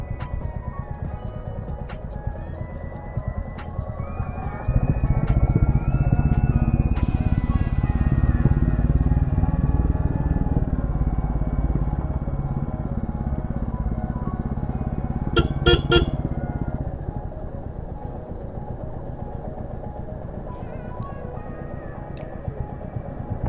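A motorcycle rides downhill on a mountain road near Siliguri, its engine droning steadily and close throughout, with a few short horn toots partway through and the engine easing off toward the end.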